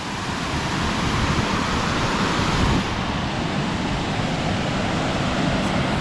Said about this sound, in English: Alright, we've got a mini waterfall there.